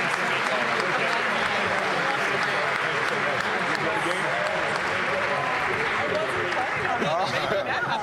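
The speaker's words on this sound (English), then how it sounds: "give them a round of applause as they make their exit" Crowd in an arena gives a sustained round of applause as the Washington Wizards leave, dense clapping and cheering filling the hall steadily, with voices mixed into the noise.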